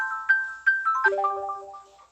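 A phone in a video game rings with a bright electronic ringtone, a few short chimed tones followed by a descending melodic run that fades out, clear and alone.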